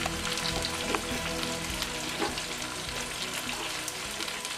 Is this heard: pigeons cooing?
no